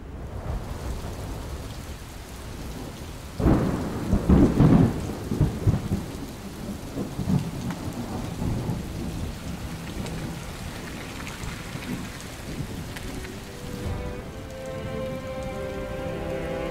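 Steady heavy rain falls on surfaces during a rainy cycling granfondo, with a loud rumble of thunder swelling and fading near the start and a continuous wash of raindrops throughout.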